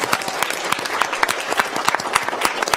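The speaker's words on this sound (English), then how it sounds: "So let's give them another round of applause for that." An audience at a recognition meeting claps in a round of applause, a steady patter of many hands at moderate distance with no talk over it.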